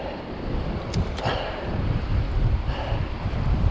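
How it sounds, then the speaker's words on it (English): Wind buffets the microphone during an e-bike ride up a mountain on a Cube Hybrid or Carrera Vulcan, a loud, rumbling roar that swells steadily stronger with no speech. "Well, the wind's not helping, is it?"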